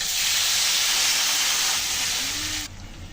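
Loud, steady hiss of water hitting frying vegetables in a pan for a curry of small local puti fish with plantain and potato, holding strong for nearly three seconds before dropping off suddenly.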